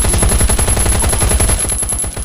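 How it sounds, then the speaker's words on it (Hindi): Loud, rapid automatic gunfire rattles out in sustained bursts during a match of the survival shooter game Last Day Rules Survival. The shots come close and relentless, with no voices over them. "देखो गाइस कितनी सारी बुलेट्स मारी पर डैमेज ही नहीं आया"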